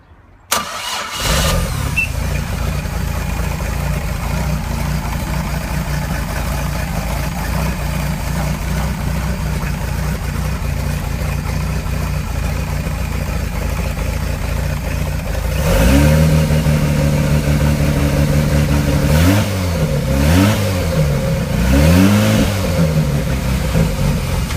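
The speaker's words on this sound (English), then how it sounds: "That's just a nice cold start right there." A carbureted six-cylinder engine in a 4 Winns boat cold-starts after a brief crank, then settles into a steady close idle, with a few throttle blips near the end rising and falling in pitch.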